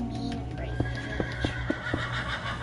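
A horse in Minecraft neighs in a long whinny, close and loud over a steady background game tone, while someone talks.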